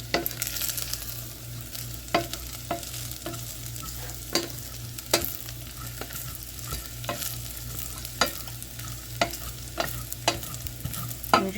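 A halved, sprouting garlic clove fries with rice in a pan, a steady sizzle broken by repeated sharp clicks and scrapes of stirring at irregular intervals.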